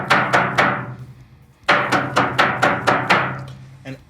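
A metal can in a car-floor project is tapped before HeatShield sound deadener is applied, giving sharp, ringing knocks: four quick taps, a pause, then a steadier run of about six more, close and loud.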